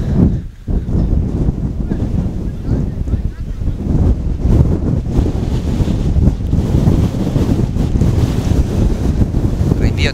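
Strong wind buffets the microphone at an outdoor amateur football match, a loud continuous roar with gusting surges that runs through the whole stretch, with crowd or commentary voices faintly mixed under it.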